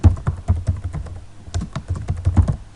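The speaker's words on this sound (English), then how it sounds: "But can I type my own name in there?" Someone types a name on a computer keyboard, producing a quick, close run of crisp keystrokes with a short pause partway through.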